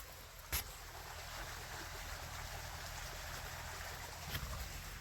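Irrigation water running into a sugarcane field at full flow, a steady broadband rush and gurgle that holds evenly throughout, with a couple of brief louder splashes.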